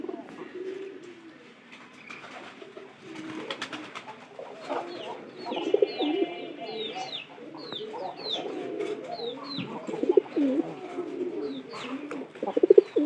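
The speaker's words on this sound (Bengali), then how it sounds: "এটা সম্ভবত নতুন কবুতর আমাদের ভিতরে ঢোকার একটু চেষ্টা করতেছে" Pigeons coo repeatedly in a loft, low throaty calls mixed with higher chirps from other birds, a steady, fairly close chorus with no talking.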